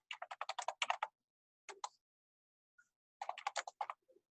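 Quick bursts of typing on a slightly sluggish wireless computer keyboard, heard close up: two rapid runs of keystrokes separated by a short pause and a few isolated taps, with no talking.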